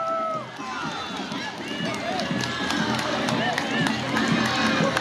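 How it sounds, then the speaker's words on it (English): Crowd applause at a 17th of May parade in Ballard: steady outdoor clapping and cheering from many spectators fills the scene, with the claps continuous and fairly close throughout. "Let's give them a nice round of applause."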